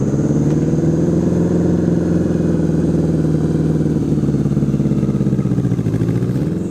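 Engine of a custom 1980s Honda Goldwing motorcycle while riding, a steady loud mid-pitched drone that holds even throughout, dipping slightly and rising near the end.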